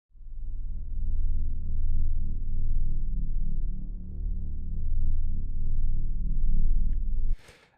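Main music track from a Wwise interactive music project, built to loop endlessly: a dense, bass-heavy continuous piece that plays steadily for several seconds, then cuts off abruptly into a brief burst of noise.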